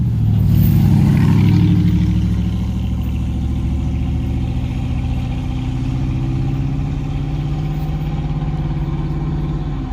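A 1970 dump truck's engine runs steadily while the truck is driven, a loud, low rumbling drone that swells briefly near the start and then holds an even, throbbing tone throughout with no talk.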